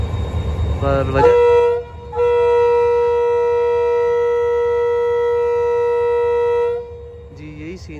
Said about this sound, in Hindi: अब ट्रेन ने मूव होना शुरू कर दिया है मलीर रेलवे स्टेशन से